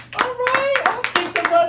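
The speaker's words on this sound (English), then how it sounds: "clap it up for everybody that got kids" A comedy-show audience claps in a short burst of several uneven hand claps at close range, with a faint voice underneath.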